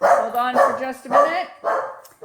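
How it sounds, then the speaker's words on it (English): A dog barks several times in short bursts in the background while a person talks over it in a home craft setting. "and that's my dog barking."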